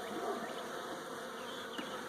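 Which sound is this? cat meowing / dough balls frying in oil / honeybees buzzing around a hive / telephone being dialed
honeybees buzzing around a hive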